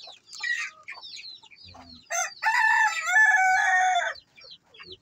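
Silkie and native heritage roosters and hens, with a loud nearby crow rising and holding for about two seconds amid scattered clucks and short calls before and after.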